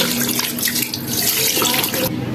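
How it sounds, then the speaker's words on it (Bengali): Water pours in a steady, splashing stream into a pressure cooker of beef biryani for about two seconds, then cuts off abruptly. "এবার পরিমাণ মতন পানি দিব"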